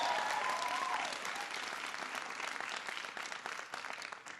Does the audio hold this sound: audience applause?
yes